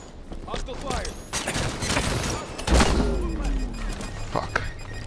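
Gunfire and explosions in a Halo 5: Guardians Beta multiplayer match, with dense, overlapping shots and a heavy boom near the middle, all under steady battle noise and voices.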